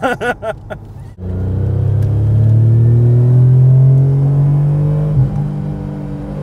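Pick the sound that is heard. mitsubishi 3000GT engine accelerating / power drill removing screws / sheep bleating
mitsubishi 3000GT engine accelerating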